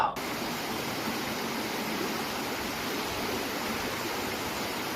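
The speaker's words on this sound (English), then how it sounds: "Just have the distant white noise of rushing water." Steady rushing water roars as a continuous broad hiss of white noise from a stream or weir in an English town, even and unbroken.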